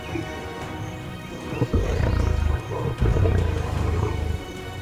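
Male lions fight over territory in the Okavango Delta, deep guttural roars and snarls rumbling loud and close in surging bursts over a few seconds.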